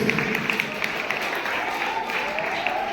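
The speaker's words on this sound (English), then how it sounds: "Let us all clap for the teachers." An audience at a church vacation Bible school event claps for the teachers, a moderate, continuous patter of hands with voices talking over it.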